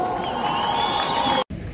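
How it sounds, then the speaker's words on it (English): Large crowd welcoming the Bafana Bafana football team at O.R. Tambo International Airport, a loud, dense wash of cheering and shouting that runs steadily before cutting out abruptly near the end, then resuming. "A big round of applause. Come on, let's hear it for Tambo Mokwena."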